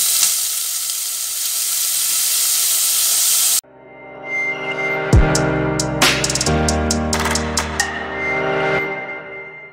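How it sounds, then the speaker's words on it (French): Garlic mixture sizzling steadily in a hot frying pan, a dense close-up hiss for the first few seconds before it cuts abruptly to tonal background music. "on met notre mélange ail et on fait cuire ça correctement"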